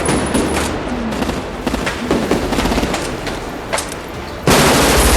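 Rapid automatic gunfire in a film shootout as robbers are besieged: dense, loud bursts of overlapping shots that keep going throughout, with a sharper, louder volley near the end.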